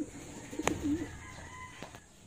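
Racing pigeons give a low coo near the mic amid soft bird activity, with a couple of sharp clicks or taps around it.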